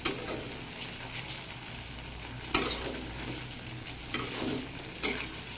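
Napa greens and potato, tempered with cumin, sizzle in a pan while a spatula stirs them in several sharp scraping strokes over a steady frying hiss.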